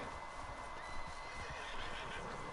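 A horse whinnies in the video game Red Dead Online, a faint neigh buried in steady game ambience and background noise.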